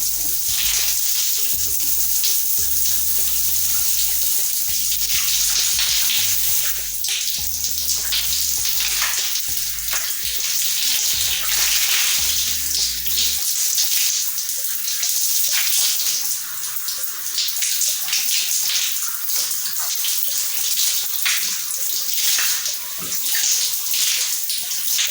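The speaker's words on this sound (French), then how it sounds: "Et ensuite, je vais rincer le cheveu." Water runs steadily from a tap while hair is rinsed during a wash routine, a continuous close hiss and splash, with a rhythmic low thumping in the background for the first half.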